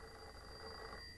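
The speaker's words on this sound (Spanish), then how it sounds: "Morta, póngase al teléfono." An old-style telephone bell ringing steadily in an animated comedy scene, a continuous bright ring filling the short moment alone with no talk over it.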